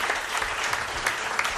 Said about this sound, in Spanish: No se pide un aplauso para estos dos monstruos que han llegado de Tenerife.